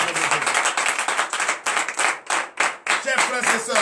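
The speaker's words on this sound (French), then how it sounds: "d'applaudir très fort" A church congregation at a Wednesday morning prayer service in Benin claps loudly and steadily, dense rhythmic applause filling the room with a few brief dips, voices audible beneath it.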